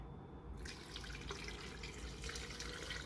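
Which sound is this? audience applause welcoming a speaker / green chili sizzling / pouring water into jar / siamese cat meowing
pouring water into jar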